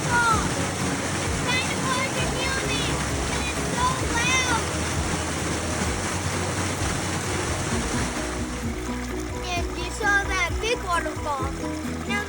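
Waterfall in Manistee National Forest, a steady broadband rush of falling water heard from a short distance, with someone talking over it throughout.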